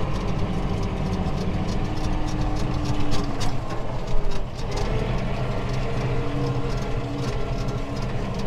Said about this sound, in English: my RPMs are going to go full max as I go all the way with the pedal to the floor